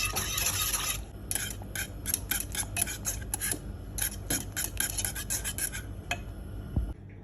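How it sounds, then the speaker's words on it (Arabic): A spoon stirs orange sauce made with orange juice, sugar and starch in a pot on the stove, giving a steady run of soft scraping, rasping strokes against the pot, quiet and close. "هلا بنضل عم نحرك لحتى يغلي"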